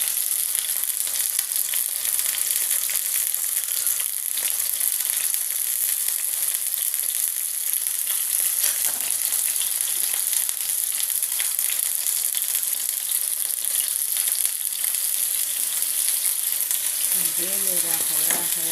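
Okra and meat fry in a pan for a Pakistani-style bhindi gosht, a steady broadband sizzle that runs unbroken from start to finish, with occasional stirring scrapes and a faint voice near the end.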